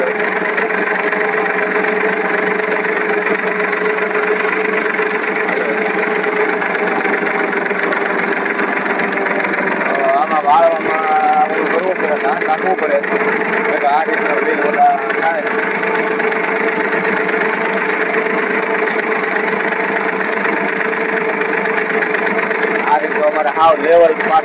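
A tractor fitted with a pole for levelling a groundnut field runs steadily up close, its engine droning without pause, with occasional voices heard over it.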